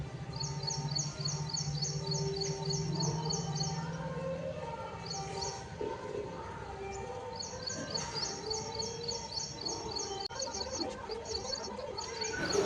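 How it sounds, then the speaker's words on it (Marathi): Morning birds heard from a terrace chirp in repeated quick phrases of short high notes, moderately near, over a low outdoor hum and faint background noise, with no speech. "फिरताना खूप छान पक्ष्यांचा आवाज येतो"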